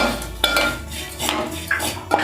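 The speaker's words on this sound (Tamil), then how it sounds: "நல்லா மிக்ஸ் பண்ணி விட்டுக்கோங்க, இல்லைன்னா அடியில் கரிய ஆரம்பிக்கும்." Spices for a dry fish curry stirred in a pan, with several scraping, clinking strokes of a metal spoon against the pan in an irregular rhythm, close and alone.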